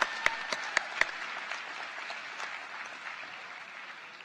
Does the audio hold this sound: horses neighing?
no